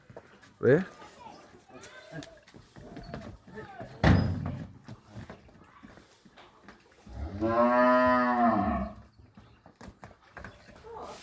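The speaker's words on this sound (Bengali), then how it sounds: "এই যে দুটি গরু ঢুকানো হচ্ছে ভিতরে" A cow lets out one long, loud moo near the end, among people talking, shuffling, and a sharp knock, as two cows are led inside at a cattle market.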